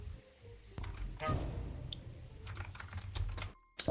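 Someone typing on a computer keyboard during an online game of Goose Goose Duck, a close, fast run of key clicks with a louder burst near the middle and a short pause before the end.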